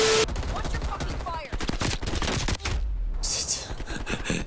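XM4 rifle fire in the video game Call of Duty Cold War: sharp, rapid bursts of shots cracking loudly and close, broken by brief pauses and a few lighter impacts.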